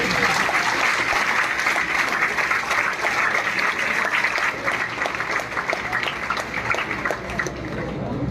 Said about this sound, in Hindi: जरूर तालियां बजाते हैं